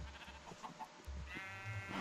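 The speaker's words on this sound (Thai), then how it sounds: "ลงมาเลยครับ พี่แกะละ" A sheep in the Minecraft video game gives a faint, short bleat over quiet low-pitched game background. The wavering, nasal cry comes once, near the end.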